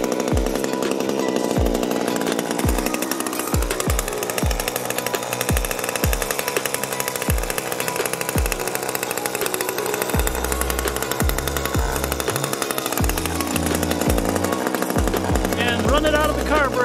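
Gas hedge trimmer engine left running to burn off remaining fuel, a loud, continuous close engine drone with rhythmic pulsing that holds steady throughout.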